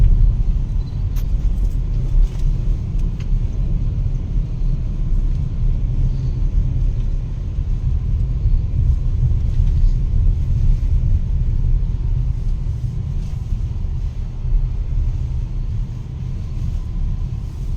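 Car driving along a mountain road in Himachal, a steady, loud low engine and road rumble that continues without pause, with no talking.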